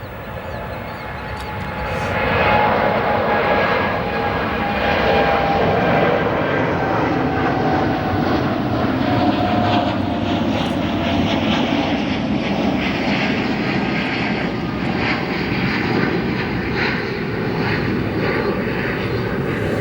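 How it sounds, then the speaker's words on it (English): A heavy jet airliner takes off at O'Hare Airport, its engines roaring loudly and steadily throughout with a broad rumbling wash and a faint high whine, no voices over it. "the one last plane is actually taking off right now. This looks like a heavy aircraft"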